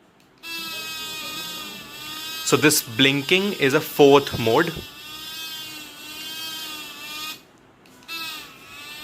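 A CareSmith Spark electric rechargeable toothbrush hums with a steady, close, high-pitched motor buzz that runs for several seconds, briefly stops, then resumes, with someone talking over it partway through.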